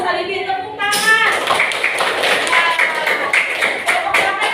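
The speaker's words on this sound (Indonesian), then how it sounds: "Bagus, Alibi, tepuk tangan." Children in a classroom clap their hands together in a dense burst of overlapping claps that starts sharply and carries on steadily, with voices mixed in beneath.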